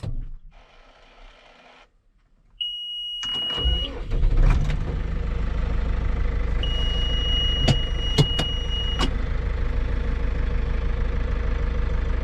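A 2007 Massey Ferguson 6455 tractor engine cranks and catches after a quiet moment, then settles into a steady, loud diesel idle with a few sharp clicks and knocks over the running engine.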